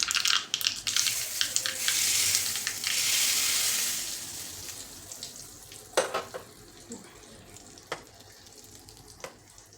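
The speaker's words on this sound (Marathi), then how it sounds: "आता तडका द्यायचा. तर हा मोहरी आणि तेल तडका तयार आहे." Mustard seeds hit hot oil for a tadka, giving a loud bright sizzle for the first few seconds that fades into scattered crackles and sharp pops.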